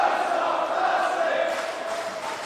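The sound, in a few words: wrestling crowd cheering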